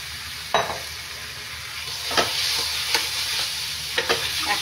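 Mutton liver sizzling steadily in hot spiced oil for a Bengali-style kosha curry, with several sharp scraping clicks of a spoon stirring the pan at uneven intervals.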